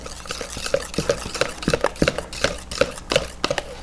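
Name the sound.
whisking softened cream cheese and white sugar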